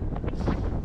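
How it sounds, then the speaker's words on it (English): Strong wind gusting at well over 30 on a sailboat at sea, a steady loud roar buffeting the microphone in uneven pulses throughout, with no voices. "It's gusting well over 30 at the moment."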